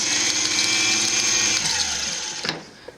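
A vintage Singer 301 sewing machine winding a bobbin, a loud steady high whir close up that slows and winds down, ending with a click and a faint mechanical knock.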